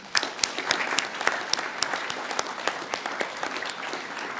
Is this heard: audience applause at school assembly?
yes